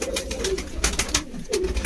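A pigeon coos twice at close range, low throaty calls with a short pause between them, over a busy background of clicks and handling noise.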